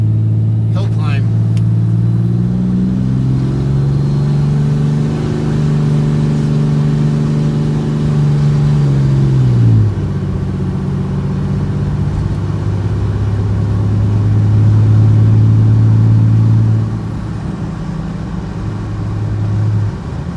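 A 2018 Ram Limited pickup set to tow mode (about 420 horsepower) pulls a car up a small hill, its engine a steady, loud, close drone that shifts pitch partway through and then settles into a lower hum.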